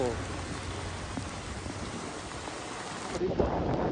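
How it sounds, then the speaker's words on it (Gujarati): Rain falls in a steady, even hiss that fills the whole stretch in Junagadh, with a slight shift in the sound near the end. "આમ જો ભાઈ વરસાદનો નજારો"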